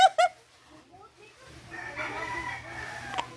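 A rooster crows twice in quick, loud bursts at the very start in a garden, followed by a low rumbling background and faint scattered sounds.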